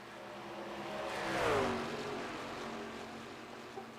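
A race truck engine in a racing game climbs in pitch to a loud peak as it passes, then fades to a steady background drone with no talk.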